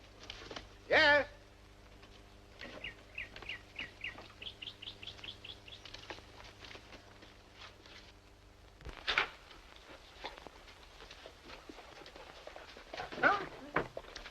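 A dog gives a few sharp barks and a run of high, quick whimpers, fairly quiet in an indoor scene, with bits of speech and faint chirps.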